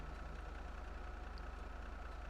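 A low, steady car engine idle in the video game GTA hums throughout, fairly faint, with a regular throbbing pulse and no voices.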